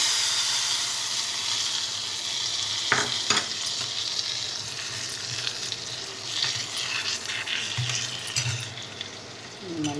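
A hot tempering of mustard seeds, fenugreek, asafoetida and dried chilli hits tamarind gravy, bursting into a loud, close, hissing sizzle that spits and crackles before slowly easing off.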